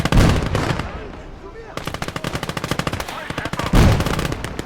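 Rapid bursts of gunfire from a 4.7 gun in a World War II battle game set in the Fall of France, loud repeated shots in quick succession with brief gaps, continuing throughout.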